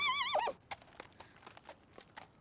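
Horse in an anime scene gives a short wavering whinny up front, then its hooves clop in a scattered, uneven rhythm, moderately close, with no talk over them.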